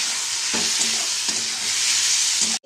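Food fries in a pan with a splash of soy sauce, a bright continuous sizzle punctuated by a few soft stirring knocks, close and loud before cutting off abruptly at the end.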